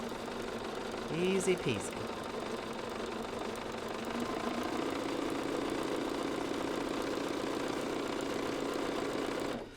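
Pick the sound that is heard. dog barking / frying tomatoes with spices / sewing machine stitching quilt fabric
sewing machine stitching quilt fabric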